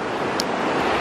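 Water rushes through Maligne Canyon in a loud, continuous broadband roar, steady and close, with a brief rustle of wind on the microphone.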